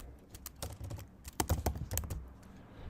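Steady, close typing on a computer keyboard while React Native component code is written, with rapid, dense key clicks and a few sharper strokes running continuously without pause or speech.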